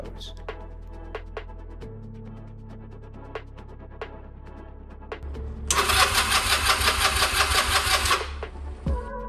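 An old Honda Rebel 250 motorcycle cranks repeatedly with a rhythmic starter whir and fails to catch, the loud churning burst near the end cutting off without the engine running, heard up close.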